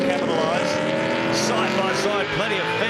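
V8 touring race cars run side by side through a corner at Phillip Island, their engines droning loud and continuous with shifting pitch as a commentator talks over the racket.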